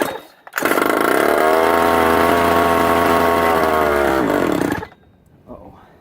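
Small pocket bike engine revving hard and close, a loud buzzing two-stroke whine held steady for about four seconds before cutting off abruptly, with faint sounds after.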